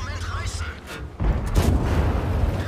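Tank gun firing in World of Tanks: a single heavy, close boom hits suddenly and trails into a rumbling echo, with someone talking before and around it.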